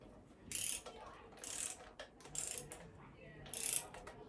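A wrench ratchets while torquing bolts in a crisscross pattern on a CB Performance 2017cc engine long block, four short bursts of clicking spaced about a second apart in a quiet workshop.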